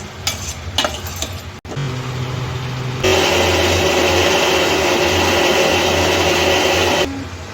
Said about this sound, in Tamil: இதை அப்படியே நல்லா நைஸாக அரைச்சிக்கணும்